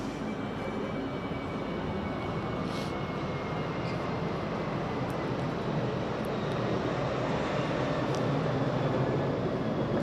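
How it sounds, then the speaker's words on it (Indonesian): A passenger airplane near the small Yogyakarta airport passes overhead as a steady, broad engine roar lasting several seconds, loud and constant and swelling slightly toward the end, with no voices. "kayak pesawat ini bolak-balik lewat"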